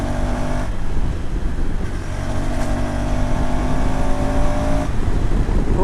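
A 2026 KTM ADV 390 adventure motorcycle ridden on Indian roads, its engine a loud, close, continuous drone whose pitch rises and dips slightly with the throttle, with no talking.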